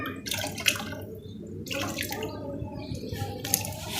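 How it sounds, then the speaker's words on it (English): Water poured onto a plant splashes and trickles in uneven bursts, soft and close, with quiet gaps between pours and faint background noise. "Now, let's give to this plant. And add little more water to them."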